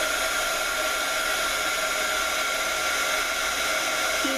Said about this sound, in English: but you take your heat tool and you just